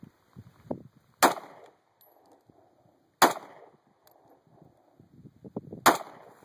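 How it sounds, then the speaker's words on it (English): Three loud, sharp gunshots from a Smith & Wesson M&P 40 pistol fired outdoors at a range near Tucson, Arizona, spaced roughly two seconds apart, with quiet shuffling between shots. "his new big boy, the Smith & Wesson M&P 40. Let's do some shooting."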